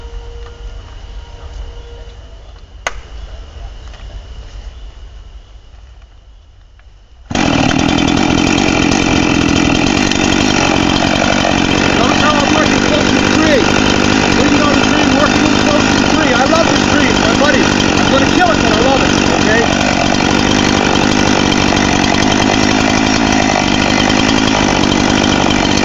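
A chainsaw idles quietly, then roars up to full throttle and holds a loud, steady buzzing cut as it makes the up cut of an open face notch in a tree.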